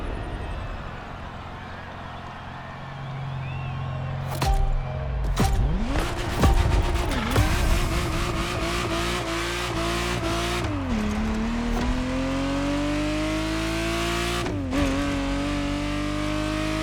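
A Ferrari Testarossa engine revs in The Crew Motorfest racing game, rising and falling through repeated pitch sweeps as it accelerates and shifts gears, with brief sharp bursts and squeals along the way.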